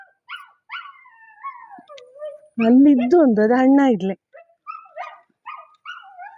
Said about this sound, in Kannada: ನಾಯಿ ನೋಡಿ ಹರಟೆ, ಅದಕ್ಕೆ ನಾವು ಮನೆಯಿಂದ ಆಚೆ ಹೋದ್ರೆ ಸಾಕು ಬೊಬ್ಬೆ